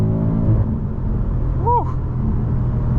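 A 2021 BMW M5 Competition engine pulls hard under full throttle, a loud close rumbling drone heard from inside the car over a few seconds.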